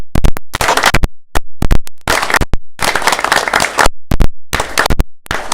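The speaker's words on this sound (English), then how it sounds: "So we give them a round of applause." Round of applause for city employees at a city meeting, a patchy burst of clapping in uneven clusters with short gaps, moderately loud and close, no talking.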